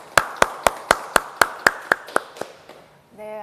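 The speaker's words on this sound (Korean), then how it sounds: "박수로 모시겠습니다" About ten sharp, evenly spaced claps ring out up close at a civic forum, like a single person or a small group clapping in rhythm to welcome a speaker. The clapping slows and fades, then a voice begins.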